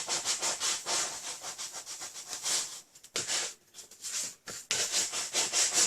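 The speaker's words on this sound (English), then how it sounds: "We can use the bone folder if you want. Takes that crease right out of there." A bone folder rubs back and forth over card stock to flatten a crease, making a rhythmic dry scraping and swishing in quick strokes, close and fairly loud with a couple of brief pauses.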